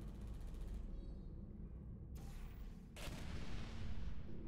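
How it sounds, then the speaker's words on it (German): Turrets exploding in a German-language action video game, heard as a dense run of low booms and gunfire-like blasts over rumbling noise, with sharper bursts near the end. "Ich glaube, das sind die Turrets, die so explodieren."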